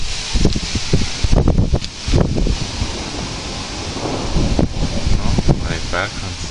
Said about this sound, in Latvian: Tad te vēl stiprs vējš.